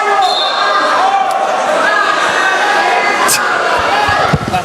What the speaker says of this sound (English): you hear the Central Falls wrestling team cheering for the Hope guy